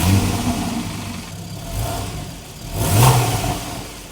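A 2013 Porsche 911 Carrera with the optional dual sport exhaust revs up, its mid-pitched flat-six note swelling, easing off, then rising again in a short second rev, heard up close with no talking.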